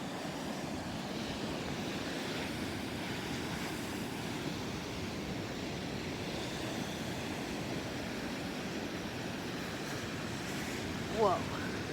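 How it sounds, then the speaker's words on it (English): Small, gentle waves washing at a beach jetty, a steady broadband wash with wind noise over the microphone and a brief faint chirp near the end. "These waves are so tiny."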